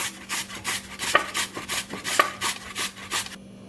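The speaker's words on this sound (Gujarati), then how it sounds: "અહીંયા બટેકાને આપણે ખમણી લઈશું" Potato being grated by hand for a Gujarati fasting snack batter, a steady rhythmic rasping of about a dozen strokes, each a scraping swish against the grater, close up with no talking.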